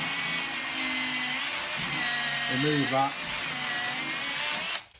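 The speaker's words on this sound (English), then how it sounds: "So we're using a little Bosch mini chainsaw." A small Bosch mini chainsaw cuts deadwood on a Cedar of Lebanon bonsai, a steady high whining buzz running several seconds close up before cutting off, with someone talking briefly over it.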